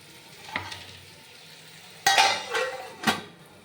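Metal lid set onto a wok of frying potatoes with salt and turmeric, a few sharp clanks and clatters over a soft sizzle, close and fairly loud.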